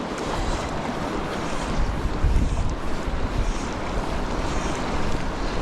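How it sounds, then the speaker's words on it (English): Strong gusty wind buffets the microphone beside the River Tyne, a dense, loud, continuous rumble and roar with no voices. "wind's picking up"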